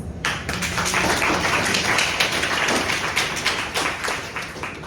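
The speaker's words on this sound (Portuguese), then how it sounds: "Aí vem assim, palmas" A group of people claps for several seconds, a dense, continuous patter of hands at an even, moderate level with no voices on top.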